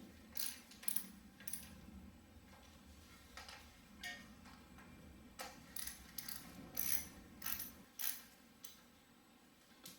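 Metal clicks and ratcheting from tightening a valve cover stud nut on a 2007 Toyota Highlander Hybrid engine, heard as a series of close, sharp ticks and small clanks in irregular bursts with no talking.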